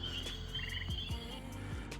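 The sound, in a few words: Eastern gray tree frog calling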